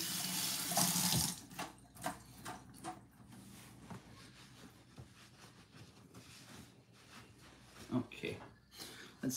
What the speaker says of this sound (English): And let me rinse off my hands again.